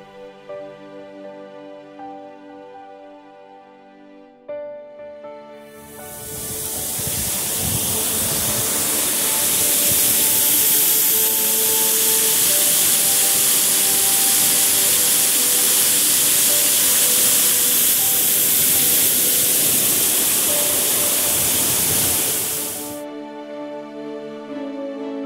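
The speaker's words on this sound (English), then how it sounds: "around the waterfall below the dam." A waterfall pours below a dam beside a bass pond in the Biltmore gardens. The loud, steady rush of falling water swells in, holds for several seconds and then cuts away, with soft music audible before and after.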